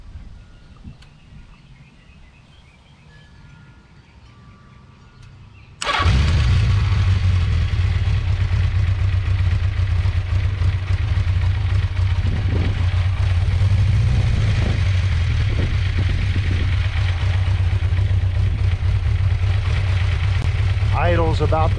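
A 1979 Honda CB650 motorcycle engine cranks and starts about six seconds in, after a quiet lead-in, then settles into a loud, steady, throbbing idle close by for the rest of the clip.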